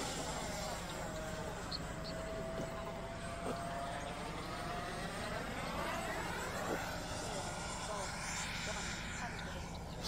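A Freewing F-86 Sabre 80mm RC model jet makes a flying pass, its steady loud turbine whine sweeping past with a rising and falling tone, sustained throughout and heard from the ground.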